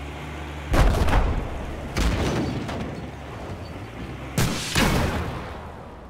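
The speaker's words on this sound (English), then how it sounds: "did he just grenade launcher you?" Battlefield 4 combat: a handful of heavy, booming blasts, including grenade launcher explosions, hit at uneven intervals, each with a rumbling tail that fades before the next.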